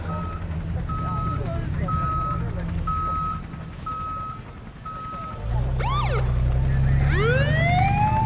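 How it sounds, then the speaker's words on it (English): A vehicle reverses, its steady backup alarm beeping about six times in an even rhythm over low engine rumble. A siren then wails up and down while engine noise swells. "let's get that car out of here. Okay, you're clear. Back her up."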